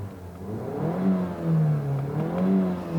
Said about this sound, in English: The engine, let's take a listen to that real quick.